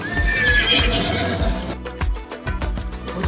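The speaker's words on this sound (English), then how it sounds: "they also had the little zebra and the horse sound" Recorded horse whinny played when a gong is pulled at the DreamWorks Land play area in Universal Studios Florida, a bright rising neigh followed by clopping hooves amid theme-park crowd noise.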